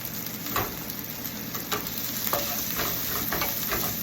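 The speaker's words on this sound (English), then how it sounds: "we're going to saute the onions lightly" Onions sautéing lightly in a pan for hash browns give a steady close sizzle, with soft stirring scrapes every second or so throughout.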